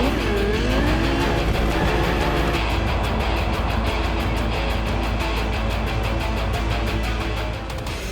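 Lamborghini Huracán STO supercar mod driven in the video game Cyberpunk 2077, its engine roaring loudly and continuously with rising and falling revs, alone without talk.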